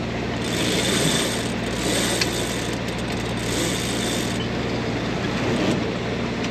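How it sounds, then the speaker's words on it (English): A sailboat winch clicks in a steady ratcheting rhythm as a line is hauled in, close and fairly loud over a constant background rumble. "you got to pull it in with the winch"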